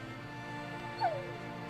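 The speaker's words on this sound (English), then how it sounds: "did the fox just whimper?" Fox in the video game Spirit of the North giving a single short, falling whimper about midway, brief and fairly clear over a sustained musical drone.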